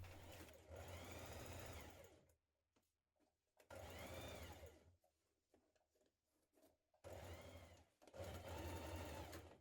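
A sewing machine stitches down the side seam of a spring dress in three loud bursts of rapid whirring, separated by quiet pauses with light handling sounds of fabric.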